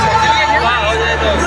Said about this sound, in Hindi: बहुत लंबा भीड़ है यहाँ पे।